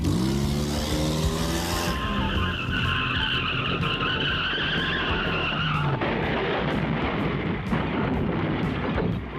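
A car skids and crashes in a sound effect: a long, loud tire squeal with a whining engine builds up, then gives way to crunching impact noise and scattered rattling debris.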